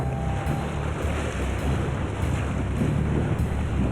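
A swollen Alaskan river rolls past after days of heavy rain, a constant loud roar of rushing water with steady wind buffeting close by.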